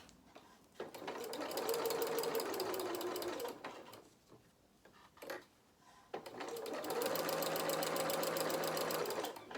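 A sewing machine stitches fabric for a soft toy bear's body in two long, steady whirring runs separated by a short pause, close and clear.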